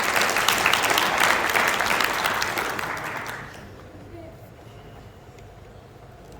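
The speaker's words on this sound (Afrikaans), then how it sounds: "Geef hulle weer 'n lekker hande klap." An audience claps loudly and steadily for about three seconds, then the applause fades out into a quiet room with low background murmur.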